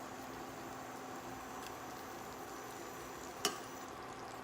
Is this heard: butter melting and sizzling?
yes